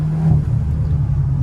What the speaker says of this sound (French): Là, tu as un retour de turbo